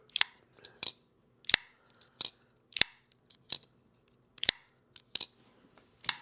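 Kizer folding knife blade snapping open and shut against its detent near a microphone, a series of sharp, crisp metallic clicks in quick irregular pairs over faint background hum.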